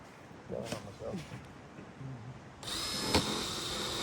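A power drill whirs in a steady burst driving screws into a shelf, coming in after a stretch of conversation and running continuously to the end, fairly close.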